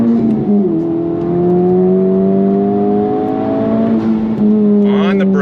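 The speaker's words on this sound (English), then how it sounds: "On throttle, here we go, that second gear." A Honda Civic Type R FL5 accelerates hard in second gear on a twisty road, its engine note climbing loud and close with a steady rising drone, then a brief shift and fresh pull near the end.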